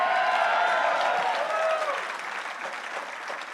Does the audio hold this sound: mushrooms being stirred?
no